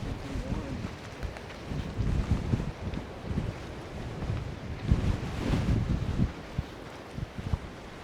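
Gusty wind buffets the microphone on an Alaskan coast near Old Harbor on Kodiak, giving a low rumbling roar that swells and eases in waves, with people talking quietly underneath.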